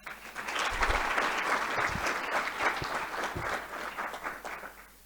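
Audience applause at the 2022 Africa Evidence Summit, a full room clapping steadily for several seconds before tapering off near the end.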